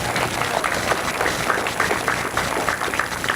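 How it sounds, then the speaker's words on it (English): Audience applause at a political conference gathering, a steady, moderate patter of many hands clapping in a room, with a faint murmur of voices underneath. "Give yourself a round of applause."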